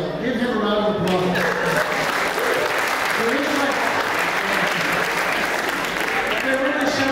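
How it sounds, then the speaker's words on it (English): An audience claps loudly and steadily at a fiddlers' strawberry festival, with dense applause filling the whole stretch and a voice briefly heard over it. "Give him a round of applause."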